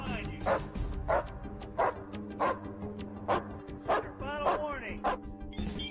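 A police canine barks repeatedly and loudly during a sheriff's office search of a tent for an escaped gunman, steady rhythmic barks over a constant background rumble with voices present.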